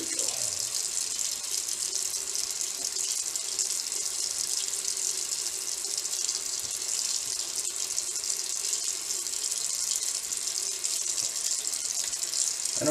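A bathroom sink tap runs steadily for a cold rinse during a wet shave, giving a constant close hiss of flowing water with no break and no talk.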